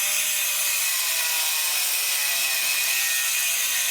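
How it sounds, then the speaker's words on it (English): A Dremel tool with a cutoff wheel grinds into a hardened steel vehicle frame rail, a loud continuous high-pitched whine and hiss with no pauses or talk. "grab a Dremel tool with a cutoff wheel and cut a square right here"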